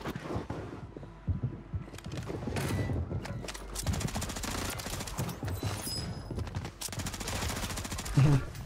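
Call of Duty gunfire on Rebirth Island keeps going throughout: repeated rapid bursts and scattered shots from the video game, layered with other game effects.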